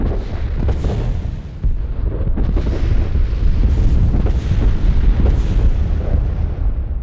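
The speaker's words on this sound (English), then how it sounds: "They're gonna bomb us to oblivion by the looks of it." Planetary bombardment in the Master of Orion space strategy game thunders as a continuous barrage of loud, rumbling explosions and booms, with overlapping blasts rolling on without pause.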